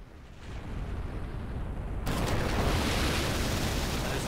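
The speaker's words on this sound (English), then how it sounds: "There's no way that a device that small could have an explosion that big" A bomb explosion in Final Fantasy IV DS: a steady rumbling roar that builds, then jumps into a louder, brighter sustained blast and holds at full volume with no voices.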